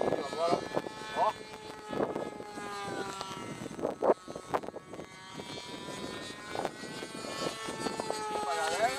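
Engine of a radio-controlled model seaplane on floats, a Pastinha Artal, droning steadily outdoors with shifting pitch under frequent close talk from people nearby.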